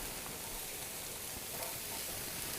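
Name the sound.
onions sizzling in a hot skillet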